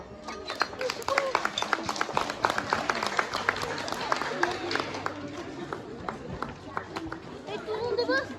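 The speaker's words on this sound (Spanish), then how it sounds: "Aplausos." A crowd claps for children marching in an Independence Day parade, with dense scattered handclaps and festive chatter throughout, loudest early and tapering slightly later.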